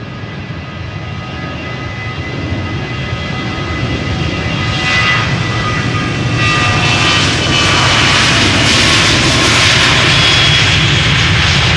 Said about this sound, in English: Now this is KLM flight 1269, 737-900 to Copenhagen